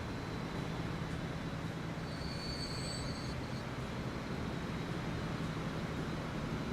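Train running in the video game Transport Fever, a steady loud rolling rumble with a brief high metallic squeal partway through, continuous and close, with no talk.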